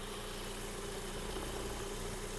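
A Volkswagen Golf Plus with a 1.6 MPI petrol engine idles steadily under an open hood, a low, even hum with a faint rattle, quiet and unchanging with no talking.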